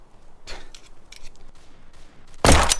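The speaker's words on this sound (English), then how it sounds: "Shot myself in the head." A single loud, sharp gunshot from a video game pistol goes off near the end, following a stretch of faint handling clicks and quiet game ambience.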